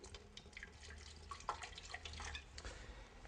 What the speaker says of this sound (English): you want to put a 1/4 cup of water